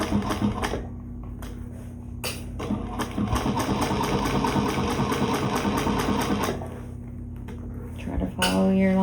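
A sewing machine back stitches along the seam joining shoulder bag panels, a fast steady mechanical chatter running for several seconds between short pauses, close up and loud, with brief quiet gaps at the start and end.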